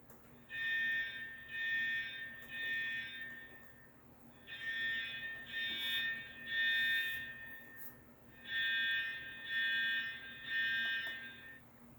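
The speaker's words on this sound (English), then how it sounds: "If you ever grow tired of that sound, that's the fire alarm." A fire alarm sounding in repeated groups of three shrill electronic beeps separated by short pauses, moderately loud over a quiet background hum, with no voices.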